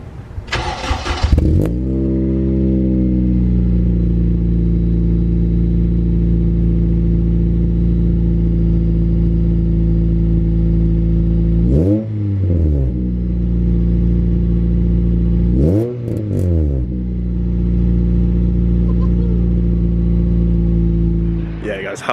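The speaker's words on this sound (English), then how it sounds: "little cheeky start up, cold start, Scorpion exhaust" A Honda Civic EP3 Type R with a Scorpion exhaust cold starts with a quick crank and catch, then settles into a loud, steady, deep idle with two brief blips of revs, close to the car.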